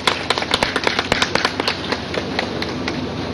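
An audience in Lahore claps in tribute to Munnu Bhai at a meeting, giving a steady run of crisp, evenly spaced claps that fade slightly toward the end.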